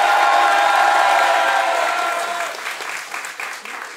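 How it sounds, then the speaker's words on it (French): Improv show audience applauding loudly at a Paris improvisation festival, a dense wash of clapping with some cheers that fades gradually toward the end. "Pour ceux qui veulent une fin heureuse, applaudissez maintenant."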